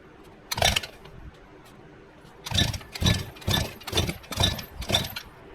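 An engine with a faulty stator coil sputters in a string of uneven, rough bursts. One short burst comes first, then after a pause five or six closely spaced loud chugs follow, each cutting out between.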